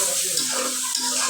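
Boiled potatoes go into a hot oiled pan for a fish curry, giving a brief close sizzle and frying hiss with faint stirring, and no one speaks.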